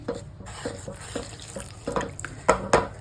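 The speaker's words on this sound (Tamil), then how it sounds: "இதில் வந்து இந்த பாலை ஊற்றி நல்லா கரைச்சிக்கணும்." Milk is poured into sifted roasted flour in a bowl and mixed in, with close wet splashing and a run of soft stirring clicks and sloshes.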